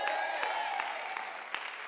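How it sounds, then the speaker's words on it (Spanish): A church congregation applauds, a steady wash of moderate clapping running the full length under sustained tones, with a few sharper claps standing out. "Qué aplauso más churro"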